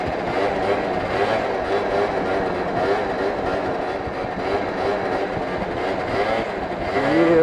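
A pre-bug Yamaha Zuma two-stroke scooter revs hard during a wheelie on a bike path, its buzzing engine steady and close over wind rush, rising toward the end.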